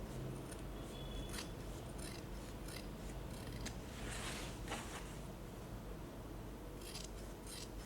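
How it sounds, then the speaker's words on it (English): Scissors trimming fabric while sewing a boxy beauty pouch, a series of soft snipping and rasping cuts close by, steady and alone without talk. "Now trim the fabric to reduce bulk and make it easier to work with."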